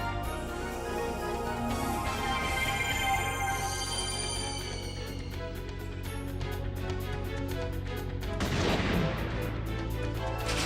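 Gatling gun attack in the game Wild ARMs 3, a dense, continuous battle sound with repeated firing bursts and a louder burst near the end, set over game music with no talk.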